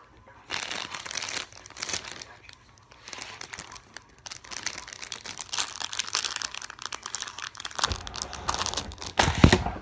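A sour candy package being handled and opened, loud crinkling and crumpling of plastic wrapper in bursts, close up, with some tearing and a sharp rustle at the end.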